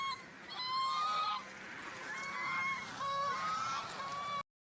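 Domestic waterfowl honk and quack in a loud, close, overlapping chorus, several calls running nearly continuously with no speech.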